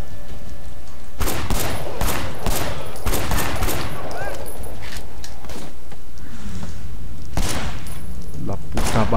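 Gunfire in the video game Sleeping Dogs, a series of sharp shots and short bursts, loud and close, with gaps between volleys while people talk over it.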